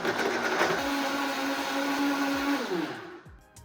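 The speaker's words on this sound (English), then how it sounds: "now we're gonna blend it all up" Blender whirring steadily while blending a cocoa smoothie, loud and close, then winding down near the end, with no talk.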